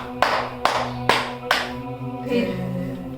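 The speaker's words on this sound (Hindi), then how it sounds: "तालियां बजा।" Four sharp hand claps at a steady, slightly slow rhythm, close and crisp, followed by a low murmur of background sound.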